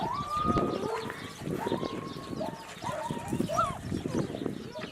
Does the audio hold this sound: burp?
no